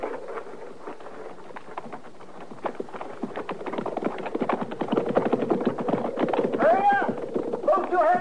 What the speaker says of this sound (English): All right, get on that horse, Doc.